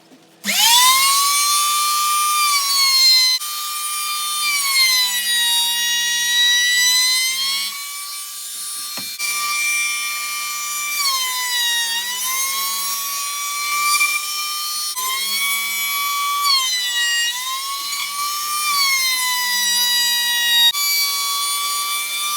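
A router cuts a round-over profile along the edge of a wooden dog stopper, a loud high whine that bogs and recovers in repeated passes, with brief pauses between cuts.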